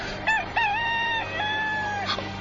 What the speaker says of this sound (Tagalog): Pedro, sa dili pa mo tuktugaog ang manok